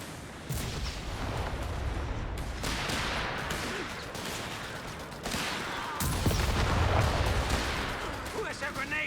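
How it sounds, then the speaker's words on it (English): Rocket artillery impacts and gunfire crackle in a dense, continuous barrage of booms and rattling shots in a WWII strategy game battle on a beach map, with voices talking over the fighting. "not enough rockets hitting to really do any damage"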